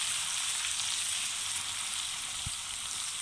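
Kidneys and minced meat sizzle in a pan with garlic and ginger for keema gurday, a steady bright frying hiss throughout with one soft low knock near the end, no talking.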